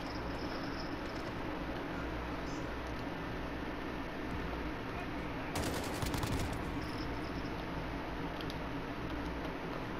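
Gunfire in Call of Duty: Modern Warfare, a short loud burst of shots around the middle of a steady bed of game noise, with no talking.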